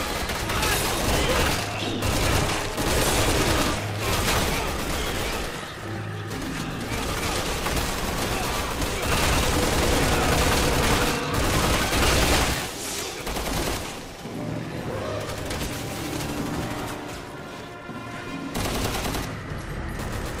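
Sustained bursts of automatic gunfire from the Resident Evil 6 video game (Chris campaign), dense and continuous over roughly twenty seconds with rapid repeated shots and booming impacts, fairly loud with a game soundtrack beneath.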